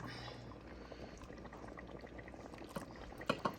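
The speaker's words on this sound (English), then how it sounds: "we're gonna put some in a bowl" Thick homemade chicken pot pie soup is ladled and poured into a bowl in a home kitchen, giving a soft, continuous liquid slosh under low room noise, with a few sharper clinks near the end.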